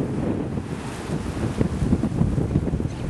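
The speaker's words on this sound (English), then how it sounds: "the wind is really, really strong right now" Strong wind buffets the microphone on a beach where kite surfers ride the waves, a steady loud roar with gusty surges and surf rumbling underneath, no voices.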